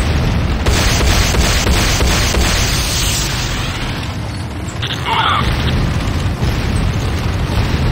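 Explosions from destroyed base buildings in the strategy shooter Renegade roar continuously and loudly, a dense rumbling blast sound with layered booms that never lets up.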